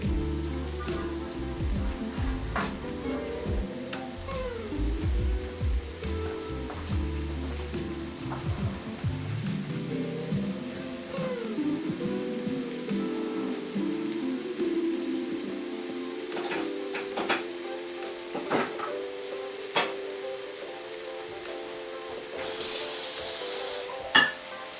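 Onions and peppers caramelize in a hot pan with a soft, steady sizzle that continues for the whole stretch under background music, with no one speaking.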